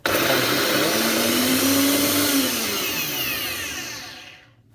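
A Nutribullet blender whizzes vegan nacho cheese sauce, a loud close motor roar whose pitch rises and then falls before cutting off and spinning down.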